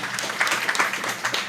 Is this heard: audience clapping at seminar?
yes